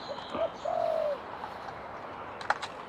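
A single soft dove coo rises and falls once, fairly close, followed by faint background rustle and a brief tap near the end.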